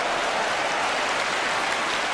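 A football crowd cheers at a 1984 Division One match between Luton Town and Manchester United, a continuous, loud roar of noise with no break across the moment.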